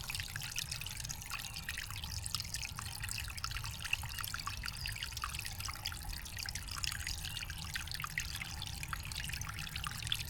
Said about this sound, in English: And then the water trickles down here.